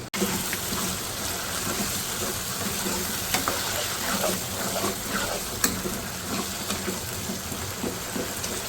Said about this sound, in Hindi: अब मैंने इसकी भुनाई करनी है और भुनाई में इसमें टूट जाना है